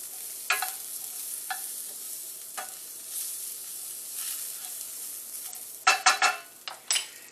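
Green beans sauté in a hot pan with a steady soft sizzle, broken by a few sharp clinks and scrapes as they are stirred and moved around.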